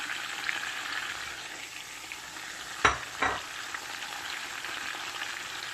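Onions and collard greens frying in a pot with a steady soft sizzle, broken by a couple of close, sharp clatters of a utensil stirring.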